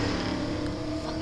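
Loud car engine out on the street while cruising, a continuous steady drone with no voices over it.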